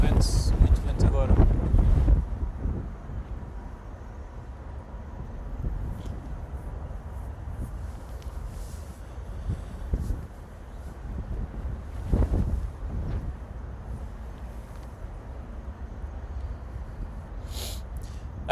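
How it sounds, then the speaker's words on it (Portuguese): Strong wind buffets an outdoor microphone at Lisbon Airport. The wind produces loud, rumbling low gusts that are heaviest at the start and swell again in bursts later on. "Muito vento agora."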